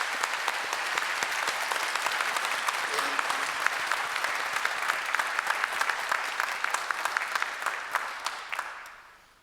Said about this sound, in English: I now ask the members of the audience to applaud your accomplishments.